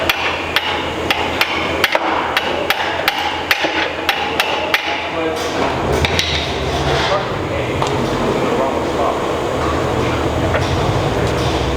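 Repeated sharp metal hammer blows strike a wrench to break loose a seized ball joint bolt on an MK4 control arm, a steady rhythm of loud clanks in the first half, then a busier clattering shop din with some talk.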